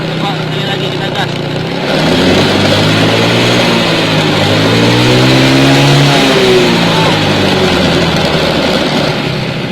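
A motorcycle engine idles loudly up close, then is revved up and back down during a battery charging test. The engine pitch rises and falls over a few seconds before settling into a steady drone.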